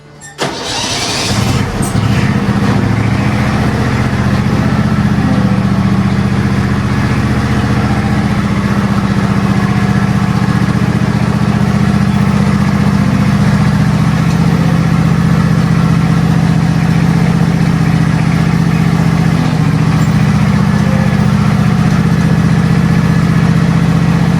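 A ride-on lawn tractor engine catches and starts, then runs at a steady, loud, close idle with an even drone for over twenty seconds. No one speaks.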